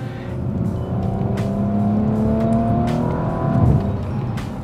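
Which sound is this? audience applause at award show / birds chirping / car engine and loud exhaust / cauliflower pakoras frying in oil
car engine and loud exhaust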